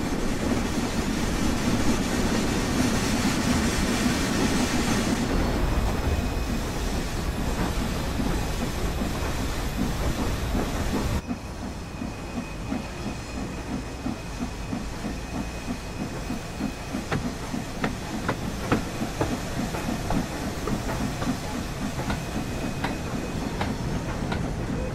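An LMS Stanier 8F steam locomotive in the Spirit of Steam railway simulator pulls away on the Liverpool Lime Street to Crewe line, a loud, continuous steam hiss and chuffing that drops into quieter rhythmic rail clatter partway through.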